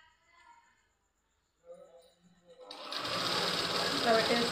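Sewing machine stitching thread piping starts up about midway and runs loud and continuous to the end, after a quiet stretch with faint background voices.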